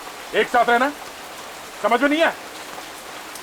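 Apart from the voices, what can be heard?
rain falling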